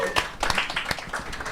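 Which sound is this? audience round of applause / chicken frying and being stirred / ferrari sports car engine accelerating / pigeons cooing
audience round of applause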